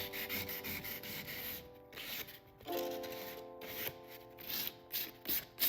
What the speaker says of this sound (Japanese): 接着剤で少し面が荒れるので面を整えるためにさっきと同じ要領で研磨します